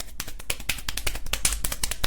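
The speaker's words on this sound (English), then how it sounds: "I can kind of clap fast" Rapid hand clapping, a fast run of sharp, evenly spaced claps close to the listener with no pause.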